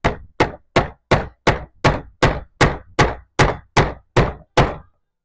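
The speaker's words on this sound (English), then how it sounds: "So we're going to try hammering again." Twelve loud, evenly spaced hammer strikes ring out one after another on a homemade wooden blending board, each a sharp thunk with a short decay, alone and close.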